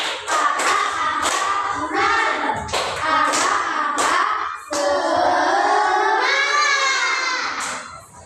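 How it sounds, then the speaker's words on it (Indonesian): Children in a classroom clap in a rhythmic cheering pattern, sharp close claps in short bursts, alternating with their sing-song chanting voices. "Tepuk semangat."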